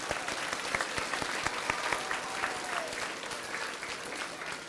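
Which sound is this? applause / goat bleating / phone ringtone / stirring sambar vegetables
applause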